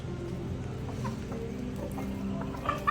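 Fighting gamecocks cluck softly in the background, a few brief calls standing out near the end over a steady farmyard hum.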